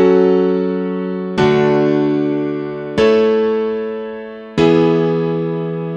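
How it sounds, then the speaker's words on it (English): Remade chord progression from a track: four sustained synth chords, each struck sharply and left to ring and fade, evenly spaced and loud with no voices. "I started by remaking the chord progression of the original track"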